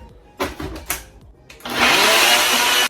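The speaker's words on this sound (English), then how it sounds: "The last thing we have to do is just put the lid onto our blender and then blend it up." A blender whirs up a thick smoothie for a smoothie bowl. A few clunks and knocks as the lid goes on are followed by a loud, steady motor roar running to the end.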